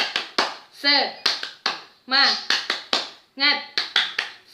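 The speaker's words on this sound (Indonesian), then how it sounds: "Mari, tepuk semangat." A classroom of children follows a teacher in a rhythmic hand-clapping chant: sharp bursts of claps in repeating groups, with the children's and teacher's voices calling out between them, close and lively.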